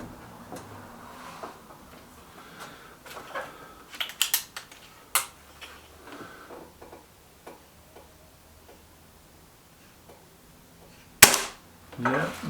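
Air rifle shots from a Kral Puncher K and a BSA R12 SLX in a target shooting contest, sharp snapping cracks scattered irregularly through quiet stretches, with one loud close report near the end.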